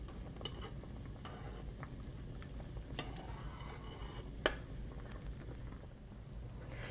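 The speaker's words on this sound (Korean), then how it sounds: "이제 끓기 시작했죠." Pork braising broth for jangjorim simmers in a pot, giving a faint, steady bubbling patter with scattered small pops and ticks, heard close and quiet with no talk.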